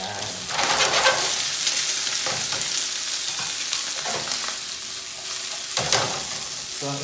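Leftover chicken adobo fried rice is stirred and fried in a pan, a steady close sizzle broken by repeated scraping strokes of a spatula against the metal, with no one talking.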